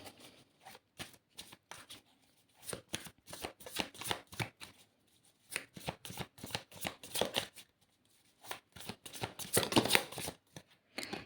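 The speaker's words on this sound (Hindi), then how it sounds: "मैं एक और कार्ड लेना चाहूँगी।" Tarot cards are shuffled by hand in repeated quick riffling bursts with short pauses between, the close papery flutter growing louder near the end, with no voices.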